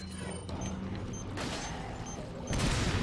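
Gunfire in Resident Evil 4 amid a dense, noisy fight: scattered sharp reports over steady rumbling background, with a heavier blast near the end.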